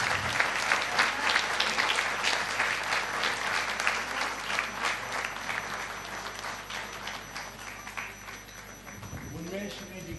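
Audience applause at a Japan festival, a dense, steady crowd clapping that holds for about nine seconds before fading, with a voice coming in near the end.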